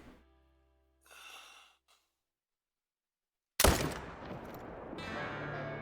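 One loud, close AR-300 rifle shot during a bull hunt cracks out after near silence, then rolls away in a long echoing tail. Faint breathy sounds come before it.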